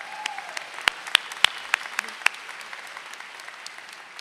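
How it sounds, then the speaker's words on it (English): Sparse, scattered clapping from a graduation crowd at a high school ceremony, a handful of distinct claps in the first half fading into quiet murmur, with a voice briefly audible at the start. "Yeah, if you want to clap."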